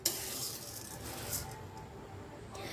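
Sabudana (sago pearls) roasting in ghee over a low flame and stirred slowly round the pan gives a faint, steady granular hiss and soft rustle throughout, with a tiny clink at the start.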